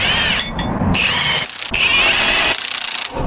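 A power tool drives bolts to tighten a wrecker mounting onto a military 10x10 truck, running loud and close in bursts with brief pauses between pulls.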